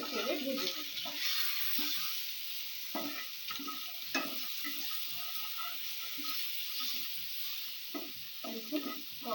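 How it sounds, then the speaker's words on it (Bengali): Chicken pieces seasoned with salt are stirred and fried in a pan for a pizza topping, with a steady bright sizzle under repeated clattering scrapes and knocks of the spatula, close by. "এবার খুব সুন্দর করে নেড়ে চেড়ে ভেজে নেব।"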